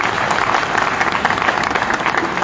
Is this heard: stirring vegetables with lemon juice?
no